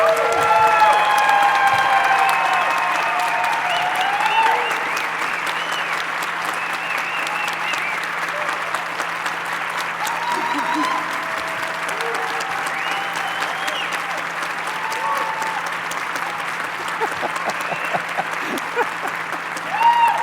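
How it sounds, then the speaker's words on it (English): A large conference audience breaks into sustained applause, many hands clapping steadily and fairly loud for about twenty seconds, with scattered voices mixed into the crowd. "stand up and give him a round of applause for everything that he has done for all of us"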